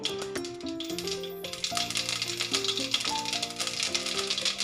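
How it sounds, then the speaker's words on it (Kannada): Half a spoon of mustard seeds hits hot oil for a Kannada kadlekalu huli sambar tempering, giving a dense, continuous rattling crackle of spluttering seeds close up, with soft background music underneath. "ಈಗ ಅದಕ್ಕೊಂದು ಅರ್ಧ ಸ್ಪೂನಷ್ಟು ಸಾಸಿವೆಯನ್ನು ಸೇರಿಸ್ಕೊತಾ ಇದ್ದೀನಿ."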